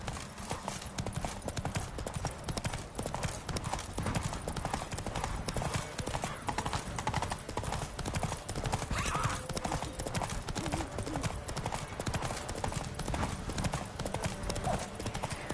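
A horse gallops in The Witcher 3 with a steady, fast clip-clop of hooves that stays loud and close throughout, with a brief whinny and some game voices heard over it.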